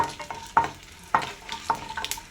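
Dry red chili sizzles in hot oil as a tempering for nalleru chutney, a close crackling hiss punctuated by a few sharp scraping clacks of stirring.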